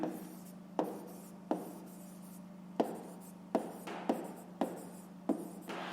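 A pen scratches across paper while a fifth-grade fraction exercise is worked out, in a series of short, close, quiet strokes coming every second or so over a faint steady hum.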